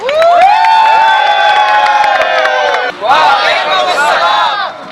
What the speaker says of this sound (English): Give her a huge applause.